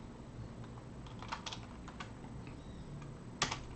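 Keystrokes on a computer keyboard while entering text into an Excel spreadsheet, a few soft scattered clicks and one louder tap near the end, quiet and close with no talking.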